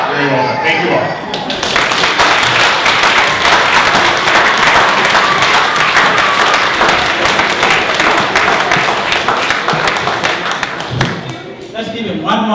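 Audience applause at a Kenyan Jamhuri Day celebration held by the Kenya Calgary Association, a dense, steady wash of many hands clapping that swells in after a moment and carries on for about ten seconds before tapering.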